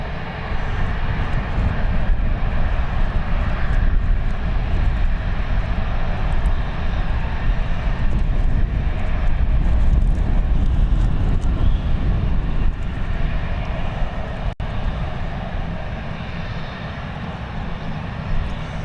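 Airliner engines roar loudly and steadily at Alicante airport as an EasyJet jet pushes back, a broad continuous rumble that eases slightly toward the end.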